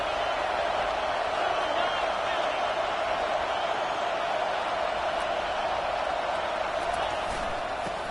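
Football stadium crowd at an LSU versus Florida game, a constant loud roar of massed voices with no breaks, heard under commentary.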